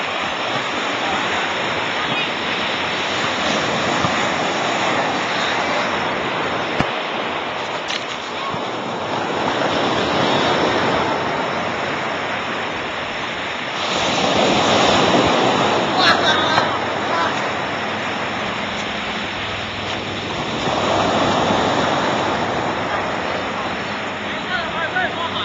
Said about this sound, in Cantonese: 人與海波大決鬥